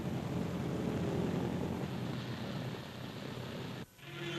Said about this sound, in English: The first plane lands on the new strip